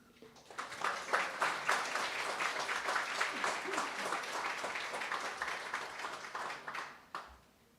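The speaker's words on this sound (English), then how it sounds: "Please join me in giving a round of applause" Applause from the audience at a service dog commencement ceremony, many hands clapping steadily for around seven seconds and fading at the end, with no talk over it.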